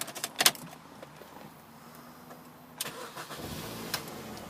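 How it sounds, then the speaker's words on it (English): A Mini Cooper 1.6 hatchback with a manual gearbox: keys jangle briefly, then the engine cranks and catches on the first try and settles into a steady idle, close by with no talk. "Just getting the car started."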